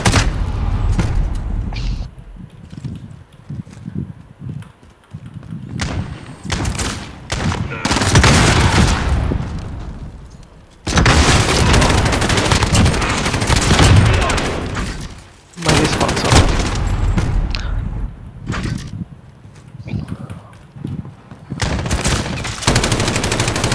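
Bursts of rapid automatic gunfire from a Call of Duty Search and Destroy match, some of it fired through a wall, come in loud, dense volleys separated by short lulls, with no talk over them.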